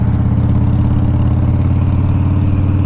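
A motorcycle engine idles close by, a loud, steady, throbbing rumble with an even pulse.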